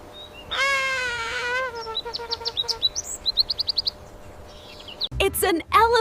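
Bird calls come one after another: a long drawn note, then rapid rhythmic chirps and tweets, with a sudden harsher burst of calls at the end, close and fairly loud.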